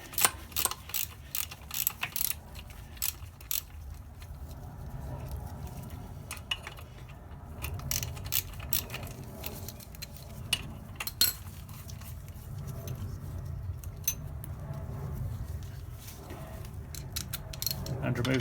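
Hose being released from the rear brake caliper of a Yamaha XT600e motorcycle: an ongoing stretch of close metallic clicking, ratcheting and tool handling, with small clinks and rattles throughout.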